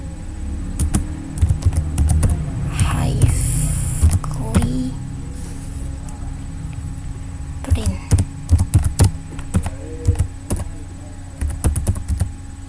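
Computer keyboard typing while entering Apache Hive commands, with clusters of close key clicks in uneven bursts and a faint background hum, and a person speaking between them.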